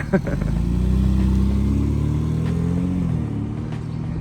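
Loud engine roar from the front of a Ford Explorer with a misfire, a steady deep rumble with a slight pitch shift, close and continuous, with a voice briefly audible.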